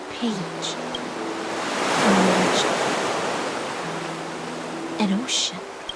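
Ocean surf from Honkai Star Rail washes in a broad, steady hiss that swells and fades, with a low tonal game score running underneath.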